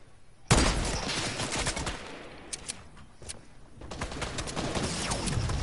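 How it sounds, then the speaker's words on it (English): Dense bursts of automatic gunfire in a video game firefight, loud and close. Overlapping rapid shots keep rattling almost without pause, with a few sharper single cracks mixed in. "Getting shot at?"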